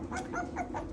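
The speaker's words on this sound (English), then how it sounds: "So we've had some bloodhound puppies, and this one is an only child" A hungry bloodhound puppy, an only pup whose mother struggles to feed it, whimpers in a string of soft, high, close cries over a low background rumble.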